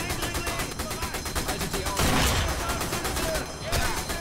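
Sustained machine gun fire in the Sniper Elite V2 video game, a fast, evenly spaced stream of loud shots running the whole clip with a heavier blast midway, and a voice talking over it.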